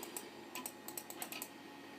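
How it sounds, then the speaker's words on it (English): Compaq Presario 2240 laptop CD-ROM drive laser motor seeking, giving a quiet run of soft, irregular clicks and ticks that resemble muffled typing, with no voices. "That CD-ROM drive, the laser motor, always sounded like someone's muffled typing."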